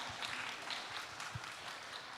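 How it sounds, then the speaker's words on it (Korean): Audience applause at a youth farming expo talk show, a soft steady patter of many hands clapping, fairly distant and even for a couple of seconds. "큰 박수를 드리면서"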